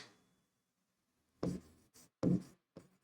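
Writing on a board during a maths lesson on simple interest, a few short scratchy strokes in separate bursts after a brief pause, close and quiet with no talking.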